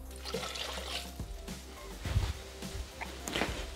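Water is poured into a Thermomix TM6 bowl over peas while making couscous, a steady splashing trickle with a few sharper splashes, close and alone.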